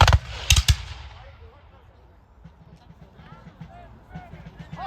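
Musket volley at a Revolutionary War reenactment, several sharp gunshots close together at the start, loud and near, then fading, with people talking afterward.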